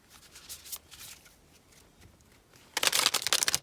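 Oracle cards shuffled by hand for a tarot reading: soft riffling and sliding of cards, quiet at first, then a louder rapid burst of shuffling near the end, with no talk.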